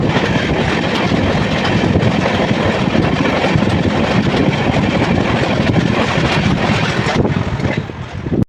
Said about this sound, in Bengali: এই দেখুন পিছনে আসছে শতাব্দী এক্সপ্রেস, পিছনে টুকুস টুকুস করে আসছে ট্রেনটি